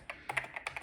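Quick keystrokes on the lubricated keyboard of a Didaktik M home computer, a burst of about eight crisp, close plastic clicks in uneven rhythm with nothing else heard.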